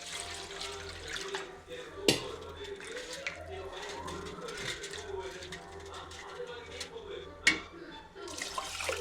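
Glasses of water poured into a pot of rice for chicken biryani, a close splashing gush with a few louder sloshes, while a person talks over it.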